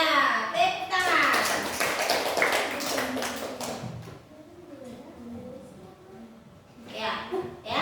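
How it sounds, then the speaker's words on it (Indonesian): Classroom applause during a lesson on magnets, a burst of clapping mixed with children's voices that fades after a few seconds, then quieter talk and a short return of claps. "Tepuk tangan."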